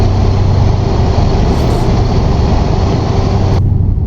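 A Scania R580 V8 truck engine in Euro Truck Simulator 2 cruising through the Spanish countryside, a loud continuous low rumble with steady engine harmonics, alone and unbroken.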